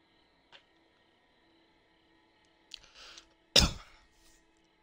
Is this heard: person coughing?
yes